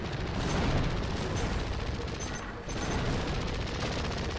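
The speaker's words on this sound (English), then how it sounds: "Let me stick at the minigun." A video game minigun fires in a dense, unbroken rapid-fire roar, loud and close, with one brief dip before the stream picks up again.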